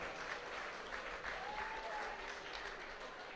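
Applause from an audience at a closing award ceremony of a sports games event, steady and even clapping heard at moderate distance, with a faint voice briefly audible beneath it.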